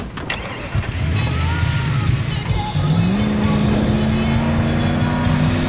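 A car engine in the Battlefield 4 video game revs and accelerates, its pitch climbing steadily under a rumbling drive along with game ambience. Faint voices are present.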